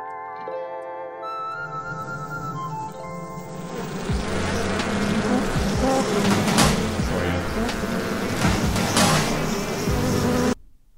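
A steady bee buzz drones loudly over a mix of tones and lo-fi beats, growing fuller partway through before cutting off abruptly near the end.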